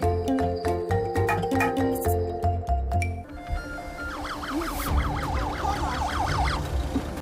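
A police siren wails with a rising and falling tone over loud music and traffic noise, its sweep repeating steadily in the second half.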